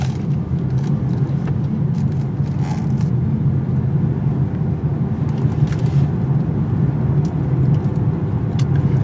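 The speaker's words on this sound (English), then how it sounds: "This is a pretty sporty vehicle, so it's only fair we take this in our sporty turning circle and see if we can spin it out" A 2018 Hyundai Kona driven hard around a turning circle, its engine and road rumble holding a steady, close, loud drone with faint tire noise and no pauses.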